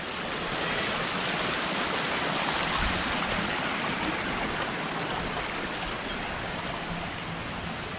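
River flowing over rocks, heard as a loud, steady broadband rush of water, close and continuous with no pauses.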